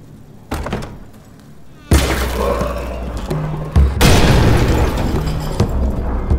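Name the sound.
grenade trap exploding in video game Amnesia: The Bunker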